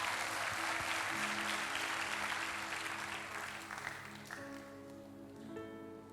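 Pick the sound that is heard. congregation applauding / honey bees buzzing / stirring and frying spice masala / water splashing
congregation applauding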